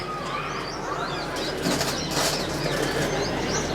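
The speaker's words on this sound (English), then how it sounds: "And also notice these pretty birds." Pigeons flap their wings amid a constant ambient wash inside Orchha Fort and Palace in India, with a louder burst of fluttering midway through and no talking.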